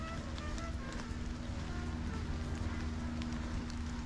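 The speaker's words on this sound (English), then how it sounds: "It's raining, but it's a canopy, so we're not really getting wet." Steady rain patters on the leaves of a Florida forest canopy of palmettos and Spanish moss, a dense, even wash of drops with a low constant hum beneath and no voices.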